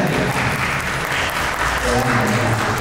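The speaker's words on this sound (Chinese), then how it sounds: "好，掌声鼓励。" Audience clapping at a Christmas book signing, sustained steady applause from a crowd filling the whole stretch, with voices mixed in underneath.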